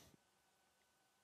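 A single sharp mouse click on an OK button, close and faint, alone in near silence at the very end after a brief earlier tick.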